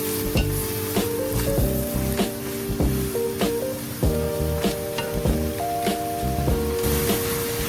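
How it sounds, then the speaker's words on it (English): Sausage and ground beef sizzle loudly in avocado oil for a three-meat lasagna sauce. The frying crackles constantly, with repeated scraping strokes of a utensil and some tonal squeaks from the pan, close and dense throughout. "some oil in there, avocado oil, for our sausage and ground beef, and let that cook down."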